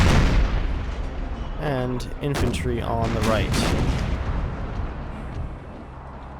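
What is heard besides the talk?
howitzer artillery fire in video game Empire: Total War mod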